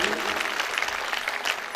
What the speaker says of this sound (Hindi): मैं चाहूंगा कि एक बार सभी जोरदार तालियां बजाकर संत जी का स्वागत करेंगे।